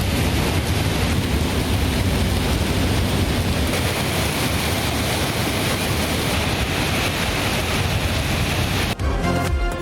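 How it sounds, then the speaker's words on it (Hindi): A rain shower falls over Rawalpindi and Islamabad after intense heat, a loud, steady broadband wash of rain that holds constant throughout and changes abruptly just before the end. "शदीद गर्मी के बाद रावलपिंडी, इस्लामाबाद में बारिश।"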